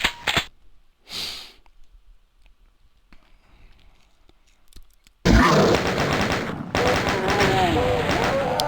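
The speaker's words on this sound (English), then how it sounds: "Chain gun." Doom's chain gun fires in a dense, loud burst of rapid shots over the last few seconds, after a quieter stretch of faint game noises and a short vocal sound.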